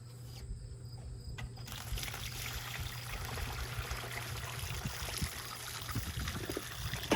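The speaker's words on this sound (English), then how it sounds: "the first step is to pour a bunch of seeds into my first colander." Watermelon seeds, flesh chunks and juice pour into a colander with a faint, continuous wet trickle and scattered small splashes that build slightly toward the end.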